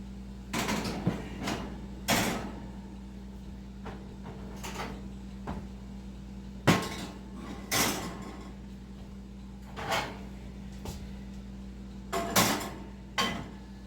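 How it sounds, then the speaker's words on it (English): Iron skillets going upside down into a 300-degree oven: a series of hard metallic clanks and thumps with a rack or door knock, scattered irregularly over a quiet room hum, with no talking. "So you put your iron skillets in the oven at 300 degrees, upside down"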